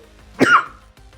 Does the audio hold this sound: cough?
yes